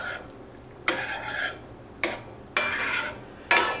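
A spoon scrapes and clinks against a pan while cornstarch mixture is stirred into simmering beef gravy, four sharp metallic strikes, each followed by a short scraping swirl.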